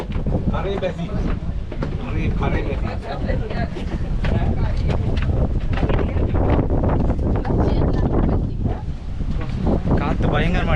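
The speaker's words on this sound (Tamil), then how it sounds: "காற்று பயங்கரமாக அடிக்குதுங்க." Strong wind roars and buffets the microphone on a climb up Sigiriya rock, a loud, gusting continuous blast heard close throughout, with a person talking underneath it.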